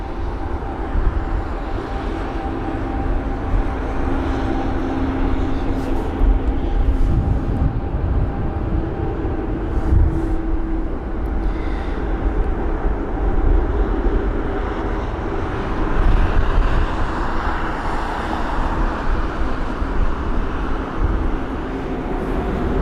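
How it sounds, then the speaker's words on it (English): A Swiss Airbus A220-300 taxiing at London Heathrow on a windy day, a steady low jet-engine rumble and whine running continuously at moderate distance with no talk. "So we'll focus our camera on the Swiss A220-300 taxi"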